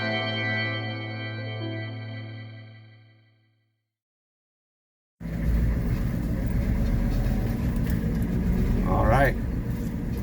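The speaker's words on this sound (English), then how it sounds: "You're along with me on the first ride out back with the new dump truck" A newly bought used dump truck's engine runs steadily on its first ride out back, a loud continuous rumble that starts abruptly after a moment of silence, with a brief spoken remark.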